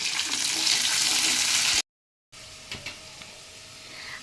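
Potato and carrot pieces fry in a pan with a loud, hissing sizzle that cuts out for a moment, then returns softer, with a couple of light knocks.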